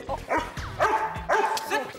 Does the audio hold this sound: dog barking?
yes